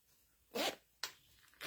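A zipper on a sewn crossbody bag is pulled in two quick, close rasping strokes with a short pause between them, and a third stroke begins at the end.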